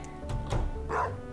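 A dog barks a few times in Stardew Valley, short game-style yips spread across the moment at moderate loudness, with steady background game music underneath.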